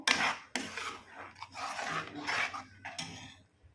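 Ground masala paste sautéed in butter for paneer butter masala, heard as repeated close scraping and rasping bursts of a utensil stirring in a pan, with no talk.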